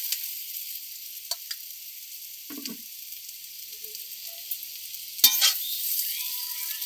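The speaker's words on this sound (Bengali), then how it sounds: "এবার আমি কড়াইতে অল্প অল্প করে দিয়ে ভেজে নেব।" Chowmein noodles frying in a wok (kadai), added a little at a time, giving a steady quiet sizzle with a few faint clicks and stirring knocks.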